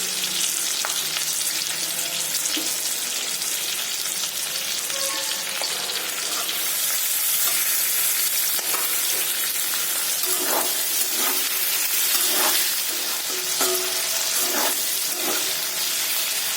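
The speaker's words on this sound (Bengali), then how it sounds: "ক্যাপসিকামগুলো সঙ্গে সঙ্গে দিয়ে দিচ্ছি।" Capsicum pieces fry in a pan of oil while making chicken in lemon butter sauce, a loud continuous sizzle with intermittent stirring scrapes and spoon taps close by.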